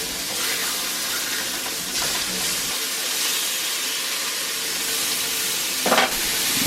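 Burger patties sizzle loudly in a hot pan after being flipped, a dense, continuous frying hiss up close with a brief scrape near the end.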